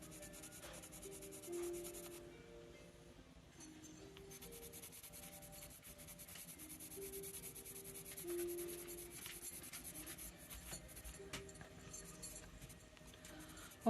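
Pencil crayon glazes over a gouache painting with faint, close scratchy rubbing strokes in uneven bursts over a quiet background.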